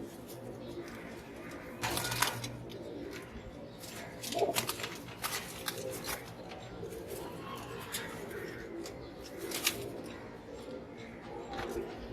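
Pigeons coo softly in a loft through the background, low murmurs running on under intermittent clicks and handling knocks, with no clear talk over them.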